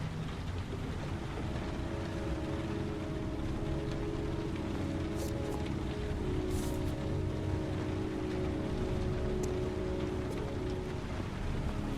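Rain falling in the video game Heavy Rain: a steady, dense hiss of rainfall pattering on surfaces, constant and fairly loud throughout, with no voices.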